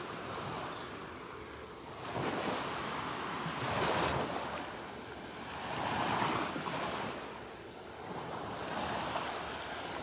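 Gentle Gulf waves wash onto a beach in North Naples on a calm, flat morning, soft surges rising and falling every couple of seconds with light wind noise, faint and steady.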